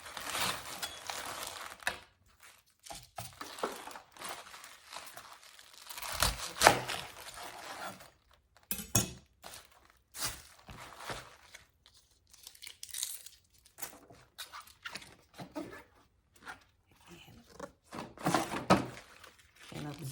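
Collard greens are cut on a board in a home kitchen, with intermittent crisp slicing, tearing and crinkling of the leaves in irregular bursts, separated by short quiet gaps.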